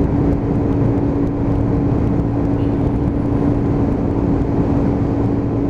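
A Lexmoto Titan motorcycle engine at steady throttle on a dual carriageway, a loud, constant drone with wind roar that holds level throughout, no rise or fall in revs.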